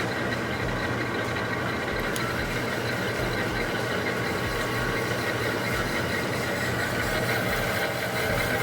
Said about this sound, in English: Let's start with just a small face cut